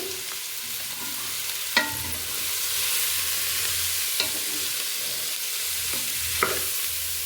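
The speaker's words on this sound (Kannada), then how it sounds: "ಇವಾಗ ನಾನು ಗೋರಿಕಾಯಿಯನ್ನು ಹಾಕ್ಕೊಳ್ತೀನಿ" Cluster beans (gorikai) fry in a pan for gojju with a steady close hiss and sizzle, punctuated by three sharp clinks of a spoon against the pan, no talking.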